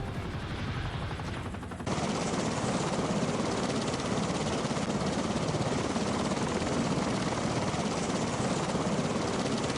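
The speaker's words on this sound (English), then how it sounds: "Come on, the chopper's here." Helicopter in Modern Warfare, loud and close, its dense rotor roar running steadily for nearly ten seconds after a quieter opening moment, with a rapid pulsing texture like gunfire mixed in.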